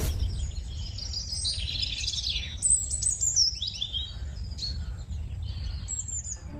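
Small caged bird chirping in a series of quick, high twittering calls over a steady low background hum, fairly close and continuous.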